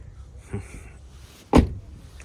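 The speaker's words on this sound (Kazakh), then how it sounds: "есік ашылу даже қиын ғой" Car door at a used car market opened with effort, a soft clunk followed a second later by a louder sharp thud of the latch giving way, alone and fairly close.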